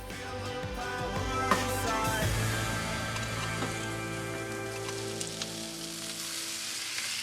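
Chopped vegetables and cherry tomatoes tossed in oil sizzle on a hot grill, a continuous close hiss with a few sharp pops early on, gradually settling into a softer, even fizz.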